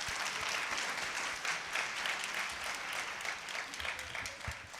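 A congregation at St. Paul's Catholic Church in Lahore claps during a New Year's Day homily, producing dense, steady applause that fills the space for about five seconds.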